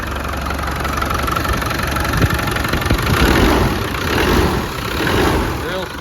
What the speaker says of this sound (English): Real smooth running engine.